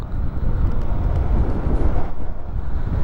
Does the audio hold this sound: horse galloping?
no